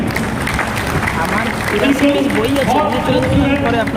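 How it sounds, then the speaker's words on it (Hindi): An audience at a network marketing stage program claps steadily throughout, a dense wash of applause with a voice speaking over it. "इनके लिए एक बार दिल खोल के तालियां बजाएंगे।"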